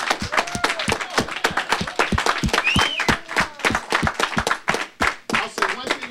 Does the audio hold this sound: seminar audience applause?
yes